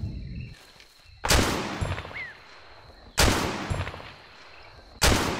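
Three loud, sharp gunshots in ArmA 2 ring out about two seconds apart, each leaving a short echoing tail over quiet background ambience.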